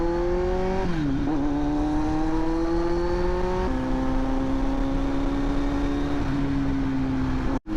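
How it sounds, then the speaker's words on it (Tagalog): A big bike motorcycle engine drones steadily while riding along Aguinaldo Highway toward Tagaytay, its strong harmonic tone stepping up and down with gear and throttle changes, loud and close throughout with no talking. "Itong motor na to kasi galit na galit, hindi siya pwede yung parang relax sa driving."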